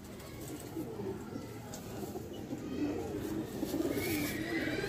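Sialkoti pigeons coo in low, repeated throaty calls, moderately close against a constant background hum, growing a little busier toward the end.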